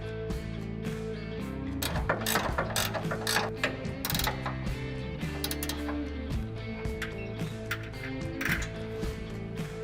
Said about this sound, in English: Take a flat washer, lock washer, an 18mm nut and thread them on the 2 bolts, then tighten them down fully.